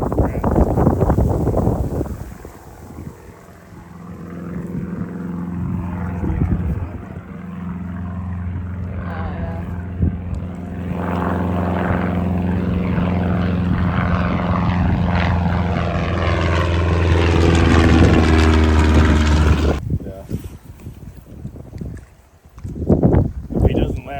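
Small propeller plane making a low second flyby over a hunting area near Talkeetna, Alaska, its droning engine swelling louder as it approaches, peaking with shifting pitch, then cutting off, while people talk over it.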